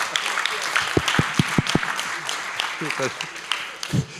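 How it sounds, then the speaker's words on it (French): Audience applause at a plenary session of a policy conference on Africa, a moderate wash of clapping in a large hall, with a speaker's amplified voice talking over it and a few isolated louder claps. "applaudissez encore Thierry de Montbrial"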